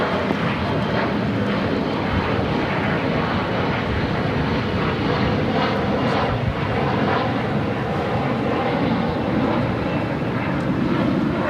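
An airliner takes off from runway 25 right at Los Angeles International Airport, its engines a loud, sustained roar that holds steady and close for the whole stretch, with no talk over it.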